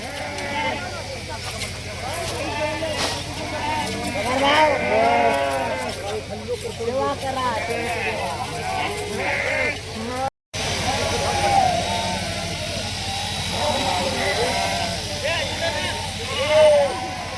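A flock of sheep bleats repeatedly at a traditional shearing event, with many overlapping calls near and far over a murmur of crowd talk and background bustle.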